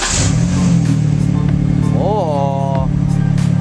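Prerunner truck engine idling with a steady low rumble, then a sharp rising rev partway through, heard close with voices talking over it.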